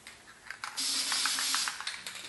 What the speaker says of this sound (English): I'm gonna go ahead and spray that rim as well.